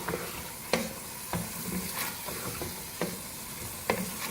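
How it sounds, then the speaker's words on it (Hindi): Soaked moong dal stir-fried over a high flame, a soft, steady sizzle broken by regular scraping knocks from stirring, close but fairly quiet, with no talk. "अच्छी तरह से मिक्स करेंगे और तेज आंच पे भूनेंगे।"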